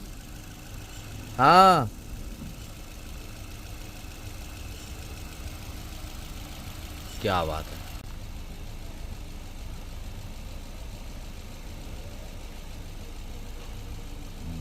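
Maruti Brezza car engine idling after an overhaul, giving a steady, smooth, quiet hum at close range, while short bursts of voices talk over it.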